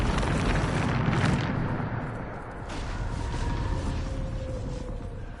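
A Bombarda explosion spell from Hogwarts Legacy, heard as a heavy blast that rolls into a long, rumbling, crackling roar and then holds a lingering debris-like rumble.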